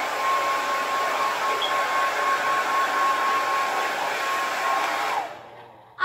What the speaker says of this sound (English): So now I'm gonna blow dry my hair.